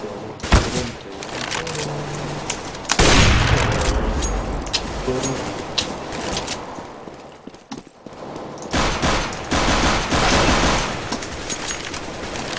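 AWP sniper rifle and AK assault rifle fire in a first-person shooter game, sharp loud shots in irregular bursts and single cracks, with quieter gaps between.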